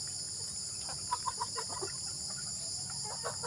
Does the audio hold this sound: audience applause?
no